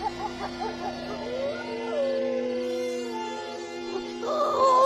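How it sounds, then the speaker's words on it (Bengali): A dog howls in long, wavering, mournful cries that rise and fall, close and fairly loud, with a faint low background hum throughout. "কুকুর কাঁদছে।"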